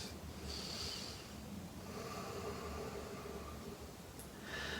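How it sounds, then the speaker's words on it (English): Slow, deep breaths during a morning vinyasa yoga flow, drawn in and let out as long, airy rushes against a steady hiss of background noise, close and fairly quiet, with no talking. "Nice deep breaths."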